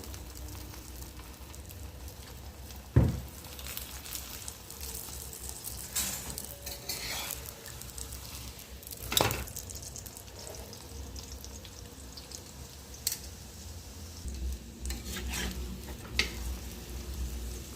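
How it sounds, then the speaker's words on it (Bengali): Aloo paratha frying in oil in a pan, a steady low sizzle running throughout with a few sharp scrapes and clinks of a utensil against the pan, no voices. "পরোটাটা ভেজে নেব। তেল দিয়ে দেব।"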